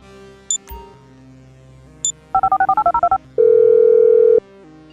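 Phone dialing in the video game Grand Theft Auto V: two short clicks, then a quick run of about nine keypad tones followed by a sustained dial or ring tone, clear and close with no talk.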